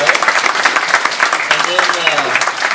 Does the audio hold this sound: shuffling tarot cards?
no